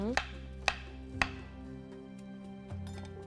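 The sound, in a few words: roughly cutting bananas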